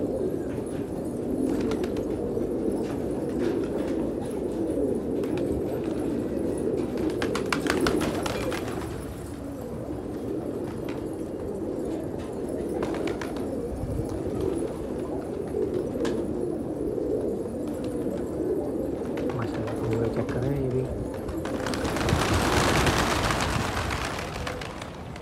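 Pigeons cooing through a pigeon fight, the low throaty coos rolling on steadily and fairly close, with scattered flapping and scuffing noises and a brief burst of louder rustling near the end.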